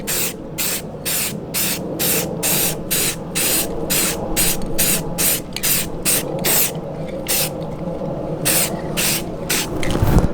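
Spray paint can hissing onto a homemade ammo-can firepit in repeated short bursts, about a dozen quick sprays in an even rhythm, close and loud, with a brief pause near the end before more bursts.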